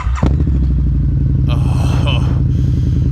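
A Harley-Davidson motorcycle, one of a Street Glide, Fat Boy S and V-Rod, cranks and fires up, then settles into a loud, close, lumpy idle with throbbing pulses and some clatter, while someone talks over it.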